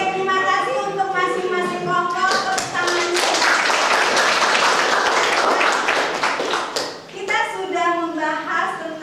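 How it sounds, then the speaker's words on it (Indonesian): A classroom of students applauds, a loud burst of clapping hands lasting several seconds in the middle, with a teacher's voice speaking before and after. "Oke, terima kasih untuk masing-masing kelompok. Tepuk tangan."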